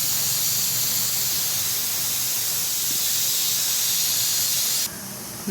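Pressure cooker cooking green gram sambar on a stove, letting off a loud continuous steam hiss that holds steady, then drops suddenly near the end with a brief clatter.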